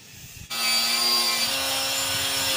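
A neighbouring house under renovation gives off a loud, steady mechanical whine that starts abruptly and holds at a constant pitch, like a power saw cutting wood, with nobody talking.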